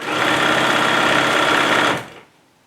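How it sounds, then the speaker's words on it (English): Sewing machine stitching seams on a Valentine's Day bag, a fast steady buzzing whir that runs evenly for about two seconds and then stops abruptly, close up with no talk. "I'm just going to sew"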